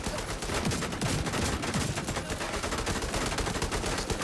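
Rapid automatic gunfire in the video game Tom Clancy's The Division 2, a dense, loud, continuous burst of shots without pause, with no talk over it.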